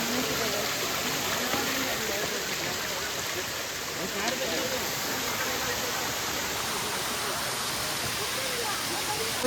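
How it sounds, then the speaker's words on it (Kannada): A small waterfall with low flow along a trek to Nethavathi peak produces a constant broadband rushing wash, with muffled voices faintly underneath. "ಫಾಲ್ಸ್ ಇದೆ ನೋಡಿ."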